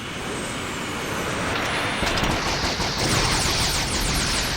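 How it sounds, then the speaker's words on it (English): Anime sound effect of gunfire as the White Base battleship's stations return fire in a counterattack: dense, continuous fusillade with rapid bursts, loud and steady throughout. "All stations return fire!"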